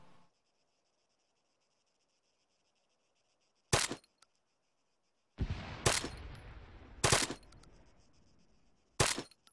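Gunfire in the military video game Arma 3: several sharp, loud single shots broken by silence, plus a longer rattling burst of mixed fire with echoing tails in the middle, heard alone without talk.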